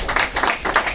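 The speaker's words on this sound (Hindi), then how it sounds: "जिनके लिए एक बार जोरदार तालियां" Audience applause at a business meeting in Ahmedabad, a short burst of close clapping from a small group with uneven rhythm.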